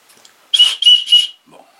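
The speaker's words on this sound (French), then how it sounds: "Ça siffle." The whistle built into a SharpAll 101N pocket knife sharpener gives three short, shrill, piercing blasts in quick succession, loud and close, after a faint rustle.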